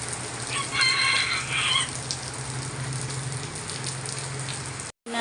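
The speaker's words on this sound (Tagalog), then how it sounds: "Ang lakas ng ulan guys. Oh yan, it's heavy rain." Heavy rain pours steadily outdoors, a dense continuous hiss close by with a faint crowing-like call early on, ending in a brief cut.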